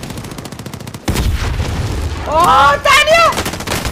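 Sniper rifle shots in a CS:GO or Call of Duty match, a sudden sharp crack followed by loud booming gunfire and ringing effects, with an excited voice talking over it.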